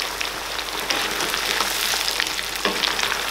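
Paneer pieces frying in hot oil for chilli paneer, a steady, dense sizzle and crackle with small pops throughout, close and fairly loud with no voices.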